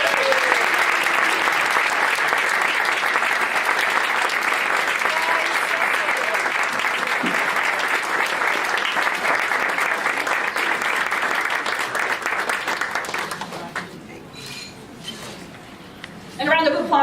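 Sustained applause from a party audience, loud and dense for about thirteen seconds, then thinning into scattered claps and cheers with voices breaking through near the end.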